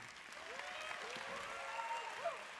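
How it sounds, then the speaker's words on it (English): Conference audience at LeWeb Paris 2012 claps in steady applause, fairly faint and distant, with the host's voice carrying over it. "can we give them an amazing applause to thank them for what they're doing?"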